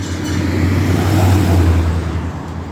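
A car drives through a residential street in Takoma Park, Maryland, its engine a loud, steady low rumble close by that swells slightly in the middle and eases toward the end.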